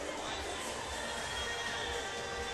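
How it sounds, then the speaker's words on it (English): Steady crowd noise filling a gym during a seventh-grade boys' state basketball game, Lincoln West Lincoln Broadwell against Ottawa Marquette, a dense continuous wash of murmuring and occasional shouts with no single voice standing out. "A great crowd on hand here."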